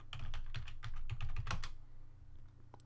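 Keys tapped on a computer keyboard at a Windows Server 2012 R2 machine, a quick run of close, crisp clicks entering a short command, then a pause with faint trailing taps.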